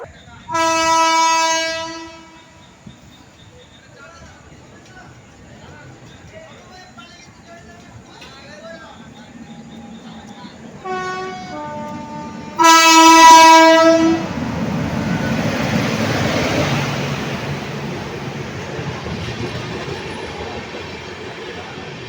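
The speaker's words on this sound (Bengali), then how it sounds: "চলো ট্রেন আসুক ট্রেনে উঠি" The Kaviguru Express, train 13027 from Rampurhat to Azimganj, arrives with loud, long horn blasts. Quieter rumbling and clatter follow and build into a near roar as it pulls in, with another long horn and some voices.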